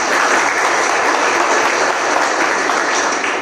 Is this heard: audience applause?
yes